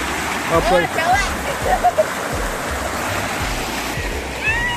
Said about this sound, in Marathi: बघा पाण्याचा आवाज पाहू शकता तुम्ही.